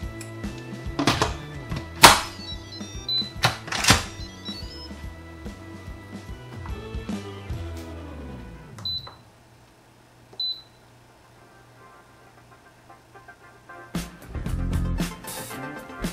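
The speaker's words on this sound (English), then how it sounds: "put on the lid, close the steam valve, and set this to high pressure for 35 minutes" Instant Pot lid set and locked, with several plastic clunks and clicks, a steam valve turned, then button presses with two short beeps, a quiet pause and a final rustle.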